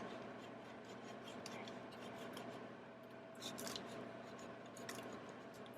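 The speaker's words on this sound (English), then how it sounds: "Now let's grate Parmesan cheese over the top of each tomato" Parmesan cheese is grated over tomato slices with a steady, close scratching rasp, brief sharper scrapes breaking through as strokes continue.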